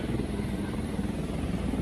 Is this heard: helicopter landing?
yes